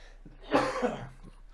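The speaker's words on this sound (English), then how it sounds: "I've been coughing, and it's been driving me nuts" A single harsh cough burst, fairly close and moderately loud, trailing off into quieter breathy noise.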